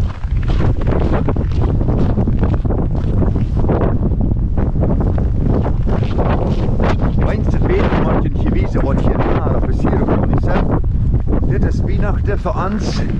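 Strong outdoor wind buffets and roars against the microphone in loud, gusty surges throughout, with people talking underneath the rumble.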